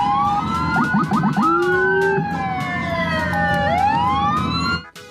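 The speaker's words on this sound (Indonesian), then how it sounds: "dan ada mobil ambulan" A toy ambulance's electronic siren plays loudly and continuously, wailing tones rising and falling with quick warbling bursts, close up, then cutting off abruptly at the end.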